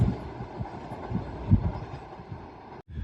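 A Class 800 passenger train bound for Aberdeen from London King's Cross at Doncaster station: a steady low rumble with rhythmic wheel thumps, fairly close, ending in a brief cut.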